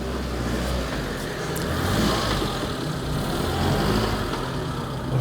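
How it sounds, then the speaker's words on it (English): A Proton Satria car engine runs with a blowing exhaust, a steady rough low rumble with a slight rise and fall in revs and a breathy, leaky tone throughout, no voices. "I think the exhaust's blowing"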